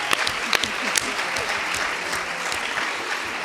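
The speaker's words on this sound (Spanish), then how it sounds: "Un aplauso ahora." Audience applause fills a room at a morning event in Spain, steady dense clapping at moderate volume with a few sharper claps standing out, no talk over it.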